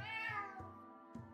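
A cat meow from a game's sound effect, played through a computer during RimWorld play, rings out quietly: a single drawn-out tonal cry followed by a couple of short soft pulses, with no talk over it.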